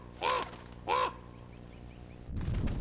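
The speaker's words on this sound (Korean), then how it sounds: "까마귀의 시끄러운 울음소리를 듣고 많은 종류의 육식동물들이 모여든다." A crow calls twice in a cold Mongolian wilderness near Khövsgöl, two harsh, fairly close caws half a second apart, followed by quiet and then a rustling noise.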